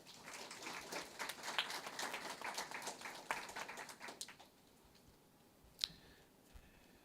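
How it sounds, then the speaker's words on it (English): Scattered applause from a small audience at a career and technical education signing day, a few hands clapping fairly close for several seconds before thinning out, followed by a lone sharp click. "Let's give these 3 a big round of applause"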